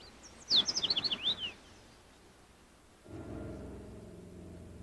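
Migrating warblers at a tropical resting spot in Belize give a quick burst of high, sweeping chirps, about a second of rapid notes, followed by quiet and then a low rumbling background.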